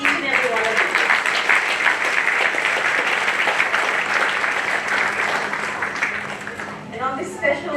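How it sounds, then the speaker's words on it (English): Sustained applause from an audience at a children's hospital event, dense and steady throughout, with a voice briefly emerging near the end. "So a big round of applause for each and every one of you."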